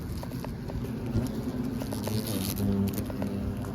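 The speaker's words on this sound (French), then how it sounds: "Donc, frelon asiatique, ça m'attaque déjà." Asian hornets with yellow legs and orange abdomens buzz steadily around a wall nest, a dense continuous drone of several insects close by with small rustles and taps, and no talking.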